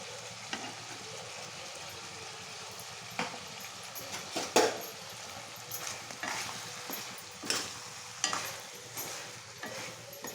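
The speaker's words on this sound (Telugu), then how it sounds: "చికెన్కి అంతా ఇలా మసాలా కలిపెట్టు కలుపుకోవాలి" Chicken curry stirred with masala in a pan with a little water, giving soft scraping and gentle sizzling under intermittent louder stirring strokes, close and moderately quiet with no talk.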